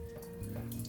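Dirty water from carpet cleaning drains out of a bowl with a gentle, continuous trickling gurgle, close and quiet, with no other sounds.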